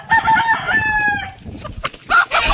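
Roosters crow loudly and close by, one long cock-a-doodle-doo rising over another, followed by bursts of hen clucking and farmyard noise in a village yard.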